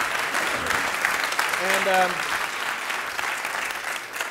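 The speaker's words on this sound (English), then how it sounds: "how about a round of applause" A hackathon audience breaks into steady, dense applause that fills the room, and a voice briefly speaks partway through.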